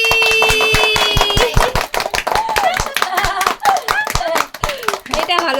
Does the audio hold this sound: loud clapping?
yes